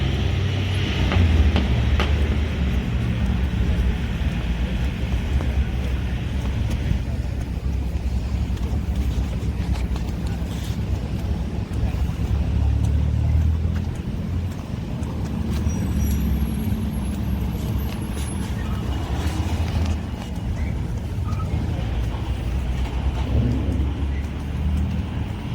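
Steady street traffic rumble in Beverly Hills with car engines and passing vehicles as two police cars pull out, a continuous low drone with some wind on the microphone and no clear sirens.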